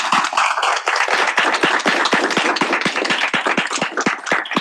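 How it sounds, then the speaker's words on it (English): A small audience at a student government Senate meeting claps for a candidate, a moderately loud patter of individual hand claps, fairly close and uneven, lasting a few seconds. "Please give him a big round of applause"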